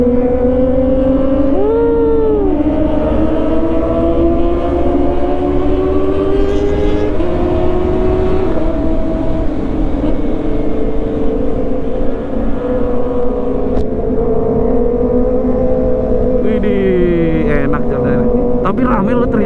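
A Kawasaki ZX four-cylinder motorcycle engine running steadily while riding on a Kalimantan road, a continuous loud drone with shifting pitch as it revs, with traffic and people talking over it.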